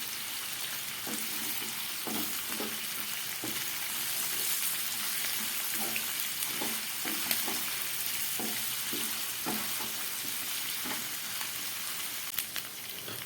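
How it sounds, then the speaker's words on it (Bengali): Chicken pieces frying in a pan over medium heat, giving a soft steady sizzle with occasional stirring scrapes at irregular intervals, quiet and close. "আঁচটাকে মিডিয়ামে করে এটা এবার কিছুক্ষণ আমি ভেজে নেব।"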